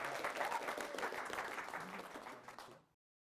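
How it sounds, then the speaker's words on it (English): Audience at a business revenue seminar in Little Rock, Arkansas applauding steadily for about three seconds, a dense wash of many hands clapping before stopping abruptly; no one speaks. "Give a round, warm of applause for Wendy Williams, my wife"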